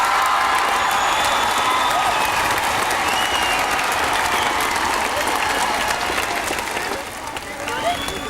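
A large crowd at the 1997 Newcastle Knights rugby league grand final celebrations applauds and cheers continuously, a loud, dense roar of clapping with a voice over the public address mixed in.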